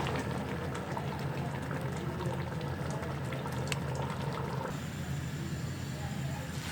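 Water boils off simmering chicken and lentils in a pot over a high flame, a steady bubbling hiss that runs without a break and is quiet and close.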